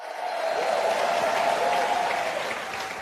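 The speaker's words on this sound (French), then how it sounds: "applaudissez le Seigneur comme vous ne l'avez jamais fait pour personne auparavant" A church congregation at a large conference session breaks into sustained, dense applause, loud and continuous for several seconds with no one speaking over it.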